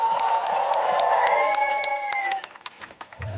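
Festival crowd at a camping festival cheering and clapping, with whistles and shouts over a dense mass of voices that fades toward the end.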